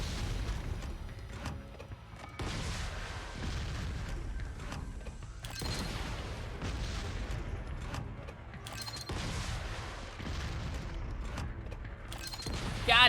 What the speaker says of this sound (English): Not blade mode, but rocket launcher.